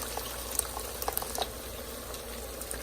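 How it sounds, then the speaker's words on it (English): Tomato sauce poured into a pot of meatball soup, a soft liquid gurgle and splash with a few small bubbling pops, fairly quiet and alone without talk. "Now you're gonna take your tomato sauce, and you're gonna, if you have this size, you're gonna pour half of it."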